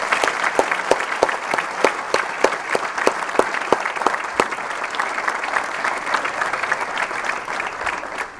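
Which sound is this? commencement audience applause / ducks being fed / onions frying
commencement audience applause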